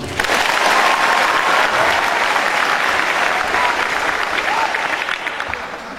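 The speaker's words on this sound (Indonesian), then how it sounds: "Tepuk tangan dulu" Dense, loud applause from a school audience of students at SMK Taruna Satria during a visit by the Pekanbaru district military commander, a sustained wash of many hands clapping that fades slightly toward the end.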